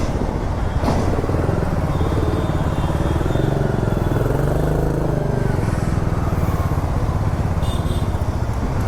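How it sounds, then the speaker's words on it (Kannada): A Royal Enfield GT 650 motorcycle engine labouring under load, a loud continuous rumble heard up close with wind noise and no gaps. "ನೋಡಿ ಎಷ್ಟು ಕಷ್ಟ ಎಳೆಯೋದು ನನ್ನ ಗಾಡಿ."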